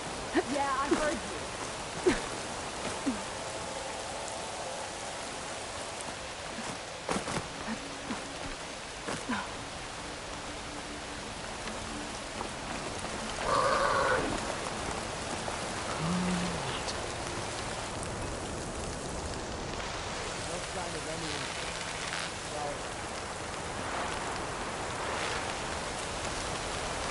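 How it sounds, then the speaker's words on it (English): Steady rainfall in the Horizon Forbidden West game world, a continuous hiss of drops on surfaces with a few brief louder patters and faint background sounds. "Rain, too? What did I do to deserve this?"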